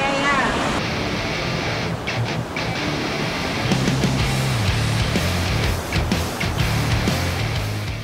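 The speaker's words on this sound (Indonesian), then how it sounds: "Deburan ombak yang menghantam karang menyemburkan embun-embun yang menyegarkan." Ocean surf rushes and crashes steadily on rocks with wind buffeting the microphone, a continuous roar of water near the shore at Jujugan Beach.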